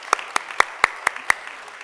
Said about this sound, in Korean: 하나님께 영광의 박수 더 크게